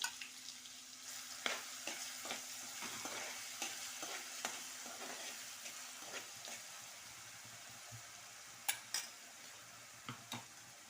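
Green chilies stirred and frying in a pan for a spicy Marathi wild vegetable dish: a soft, steady sizzle with scattered scraping taps of a spoon against the pan, faint and close, no talking.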